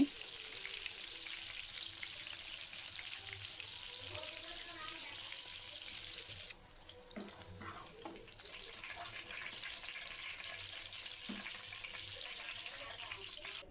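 Soybean chunks frying in a pan of oil give a steady, dense sizzle throughout, with occasional faint clinks and stirring noises mixed in.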